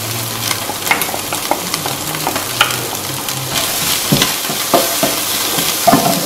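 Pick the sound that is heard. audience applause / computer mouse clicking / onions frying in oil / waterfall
onions frying in oil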